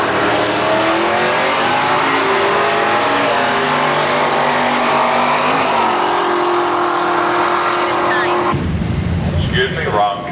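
Loud drag racing engines roar at Milan Dragway as Ford cars launch at a Super Ford event, including a 1969 Mustang with a 428; the sustained engine noise fills the scene before a sudden lower rumble near the end.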